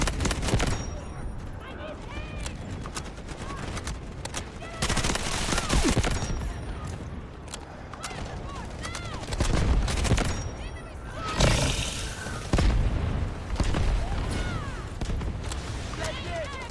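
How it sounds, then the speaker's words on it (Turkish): Bursts of MP5 submachine gunfire in the shooter game Delta Force, rapid overlapping volleys with booms at close range, under ongoing voices talking and laughing. "Kapıda adam M5 var. vuruyor ha harbiden."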